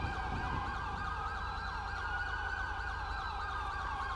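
Wailing ambulance siren from the video game LSPDFR in GTA V, sweeping up and down in a steady repeating cycle, loud and close, sounding continuously with no talk over it.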